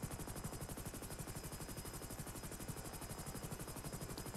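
In the video game FiveM, a steady, rapid chopping drone of helicopter rotors fills the whole stretch, loud and continuous with an even pulsing rhythm.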